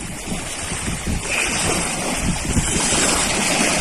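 Strong wind roars across an open reservoir at a dam while waves slap and splash, a loud, steady rushing with gusting bursts of wind buffeting the microphone and no voices.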